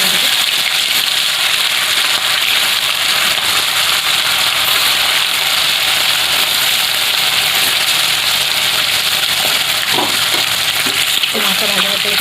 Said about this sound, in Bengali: এখানে কড়াই সরষের তেল গরম করে নেব মাছ ভাজার জন্য।